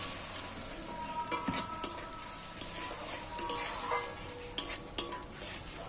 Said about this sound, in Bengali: এইবার আমি ভালো করে এইটাকে কষিয়ে নেব।